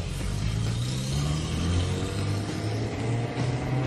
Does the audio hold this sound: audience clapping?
no